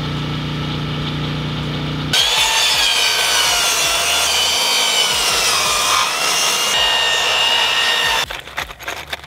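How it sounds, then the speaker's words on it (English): A saw cuts through a wooden 4x4 post with steady, fast rasping strokes, loud and close, ending abruptly before a few scattered knocks. "Let's get started with cutting the 4x4s."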